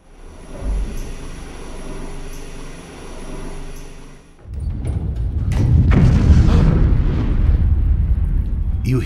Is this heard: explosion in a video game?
yes